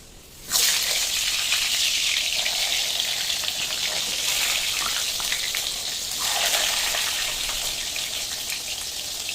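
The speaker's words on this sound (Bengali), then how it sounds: "এবার আলু আর পেঁপেটা খুব ভালো করে ভেজে নেব।" Pieces of papaya and potato drop into hot oil, and a sudden loud hiss swells into a dense, steady sizzle close by that stays strong throughout.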